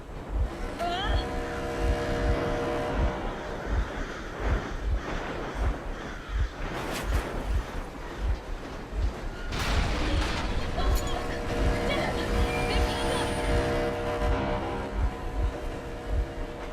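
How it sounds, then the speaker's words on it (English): A boat engine runs steadily through the scene in Metro Exodus, a continuous low throbbing drone with rhythmic pulses, while voices and loud bangs rise and fall over it. "Stop the engine immediately and come out with your hands above your head"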